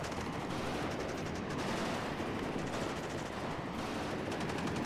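Dense, continuous gunfire from the Cold War strategy game WARNO, a steady barrage of overlapping rifle and machine-gun shots with no pauses, moderately loud.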